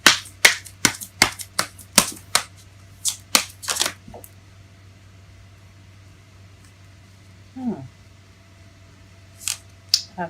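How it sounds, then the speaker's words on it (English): Tarot cards are shuffled by hand, a quick series of crisp riffling snaps in the first four seconds, then near silence with a soft brush of cards and a couple more faint flicks near the end. "It fell face up as I was shuffling."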